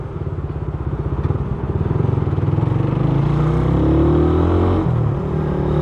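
A carbureted Suzuki Raider 150 motorcycle idles close by with a steady, rapid pulsing beat and a noisy cylinder-head clatter, loud and continuous throughout.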